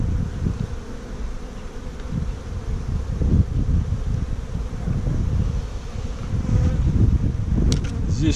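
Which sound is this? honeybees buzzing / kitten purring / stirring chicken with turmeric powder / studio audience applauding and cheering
honeybees buzzing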